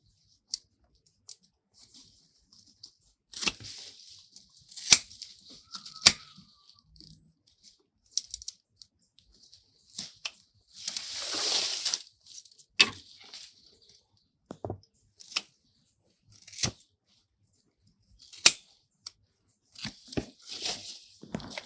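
Scattered crisp snips and rustles as ginger leaves are cut from a grow bag, irregular short clicks with a longer tearing rustle midway, close and fairly quiet.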